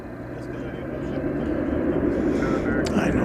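An airliner taking off from runway 18 left at DFW Airport at night, a broad steady roar that swells gradually and holds loud, with faint voices underneath.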